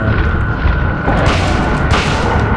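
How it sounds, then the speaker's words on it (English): Shotgun blasts in the Silent Hill 1 video game, a dense, booming roar of heavy gunfire that fills the moment loudly and continuously with no break. "I'm gonna get 2 shotgun bullets in."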